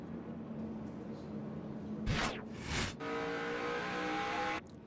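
Race cars at the 2011 NASCAR Toyota All Star Showdown: a steady engine drone, then loud tire squeal and a car roaring past, followed by a sustained high revving whine before an abrupt drop.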